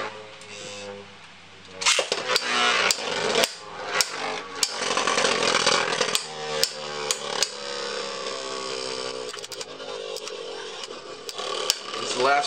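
Two Beyblade spinning tops, a stock Driger against an AuraDragoon, clash in a plastic stadium, giving off a loud steady whirring grind broken by sharp repeated clacks of impact, close by and with no voices.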